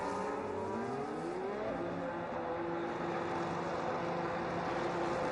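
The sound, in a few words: Haas F1 car driving down the main straight, from a racing video game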